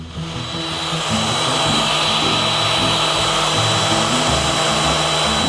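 An automated machine cutting a sign gives a steady, loud motorized whine and roar that builds over the first second, then holds constant with a grinding undertone.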